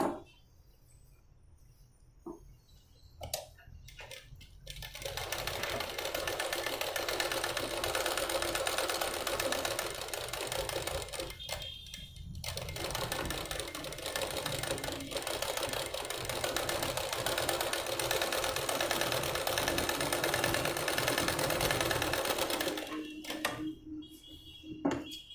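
A sewing machine runs steadily while stitching a blouse, a continuous close whirring hum lasting most of the time, with brief stops and restarts near the start and a pause before the end.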